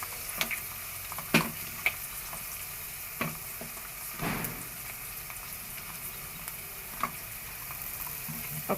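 Onions frying with ginger paste in a pan for a home-style chicken curry: a steady close sizzle with scattered sharp clicks and scrapes of a spoon against the pan, no talk.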